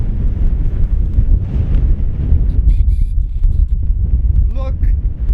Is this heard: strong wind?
yes